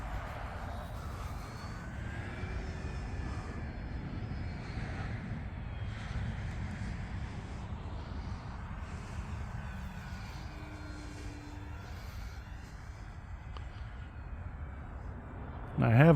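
An E-flite T-28 radio-controlled model airplane, 1.2 m span, flies at a model aircraft field. Its engine gives a steady, moderate drone that rises and falls gently as it passes and turns, over outdoor wind noise.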